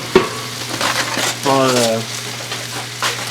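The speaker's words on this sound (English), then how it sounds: "put these over here directly over the heat. We're going to do that, just give them a good sear" Venison pieces sear in a hot pan directly over the heat, giving a steady sizzle and fry with stirring and scraping through the whole stretch and a faint hum underneath; a clear brief whistle-like tone rises midway.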